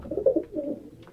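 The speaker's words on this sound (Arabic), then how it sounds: "هتشتري منه حمام شغال، حمام يكون شغال" Domestic pigeons cooing in a few soft, low rolling calls close by, with no talking.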